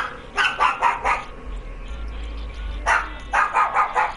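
A dog barks sharply in two quick clusters of several barks each, fairly close, over a low background rumble.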